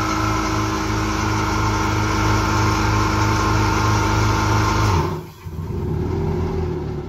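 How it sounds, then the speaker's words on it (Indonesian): Two aeration blower machines at a tilapia biofloc fish farm run together in a loud, steady motor drone close by, briefly dipping near the end before resuming, with no speech. "ini masuk ke area mesin blower, dua-duanya nyala."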